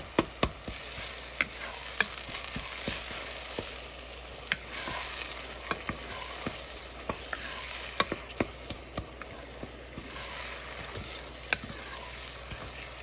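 Garlic, onions and diced tomatoes sizzle in a pan while a utensil scrapes and stirs, with sharp clicks and taps against the pan at an irregular pace over a steady frying hiss.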